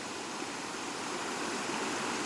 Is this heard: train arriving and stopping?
no